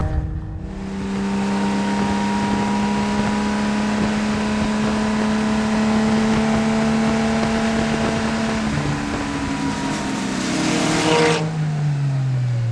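A 1967 Lotus Elan sports car with a fiberglass body and a twin-cam four-cylinder engine of about 100 horsepower laps a racetrack. The engine drones steadily with shifting pitch and rises as it accelerates, and there is no talk.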